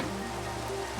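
Steady broadband patter of rain falling in Minecraft, a continuous even wash with no voices, constant in level across the short stretch.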